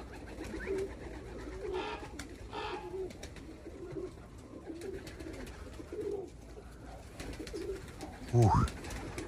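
Pigeons coo softly in a low, repeated murmur across a flock of birds, with a brief louder call near the end.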